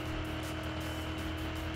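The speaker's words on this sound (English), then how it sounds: "We got ourselves a brand new Ford New Gen NASCAR race car." A Ford Next Gen NASCAR race car in Car Mechanic Simulator 2021, running at Daytona, gives a loud, steady engine roar at high revs that holds constant throughout.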